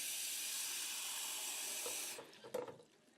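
Water rushes steadily from a tap into the tank of a Coil Master CM-800 steamer, then cuts off, followed by a few close sloshes and knocks as the tank is handled and emptied.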